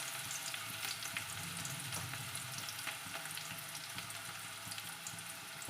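Finely chopped chili and onion fry in a pan for Chinese-style instant noodles, giving a steady, close sizzle with faint stirring throughout and no talking.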